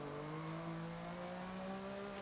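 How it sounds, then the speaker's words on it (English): A Turbo Rally car's engine in a racing video game whines at high revs, a steady tonal drone rising slightly in pitch across the clip, moderately loud with no talk over it. "Hearing at upper rev, hearing the engine whine is great."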